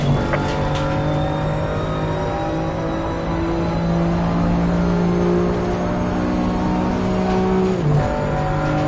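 A BMW TCX race car engine in a racing video game, a loud sustained whining drone held at high revs, dipping briefly near the end as the car shifts or brakes.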